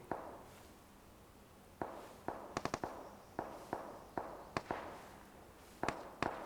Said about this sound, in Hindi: यहाँ पे अचानक से फायरिंग की साउंड स्टार्ट हो गई है